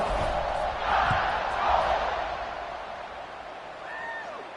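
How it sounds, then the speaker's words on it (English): Football stadium crowd at a college game buzzing after a score, a loud, dense roar of many voices swelling and easing continuously throughout, with no distinct announcer speech over it. "this crowd is buzzing after that last score"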